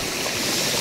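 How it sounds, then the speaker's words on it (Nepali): Water rushes steadily down a mountain stream near Sandakpur in Ilam, with a waterfall below. It makes a loud, close, continuous wash with no break and no voices. "कस्तो बबाल तरिकाले पानी बगिरहेको छ भने नि।"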